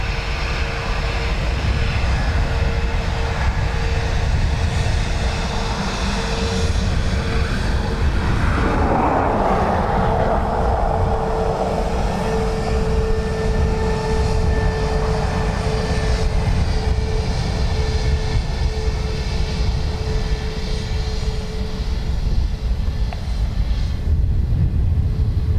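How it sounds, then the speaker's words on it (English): A jet airliner powers up for takeoff from runway 10 at Dublin Airport, a loud continuous engine roar with a steady whine that swells slightly midway, heard from nearby outdoors. "you will see High Sky take off here in front of me once they don't change runways"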